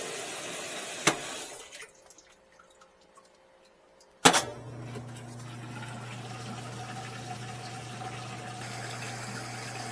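Water runs and drains down a clogged drain in a steady, loud gush, broken by a quieter pause with faint trickling before the strong flow starts again.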